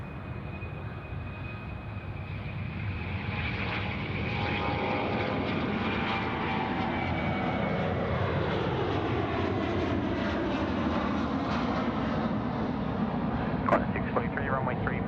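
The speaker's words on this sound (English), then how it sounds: "Qantas 643, runway 34 left, cleared for immediate takeoff" Qantas flight 643, an airliner, takes off from runway 34 left at Sydney Airport, its engines building to a loud, sustained roar with a falling tone as it climbs away, heard from a nearby spotting position.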